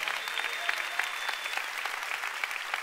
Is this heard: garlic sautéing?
no